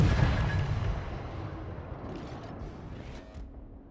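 Naval guns firing aboard the cruiser Jinan in the World of Warships video game: a deep, heavy boom opens the clip, then a long rumbling roll that slowly fades over several seconds, with no talk.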